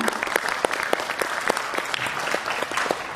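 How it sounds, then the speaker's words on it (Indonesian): A university audience gives lively applause as a professor and dean is invited to speak at a formal ceremony, with dense, steady clapping filling the hall at fairly close range for the whole stretch. "beri tepuk tangan yang meriah"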